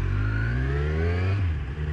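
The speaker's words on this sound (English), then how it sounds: "I was just accelerating a bit and it really goes" A Kawasaki Z1000 motorcycle accelerating on a closed circuit track, its engine note climbing steadily in a loud, close, continuous drone with rising harmonics.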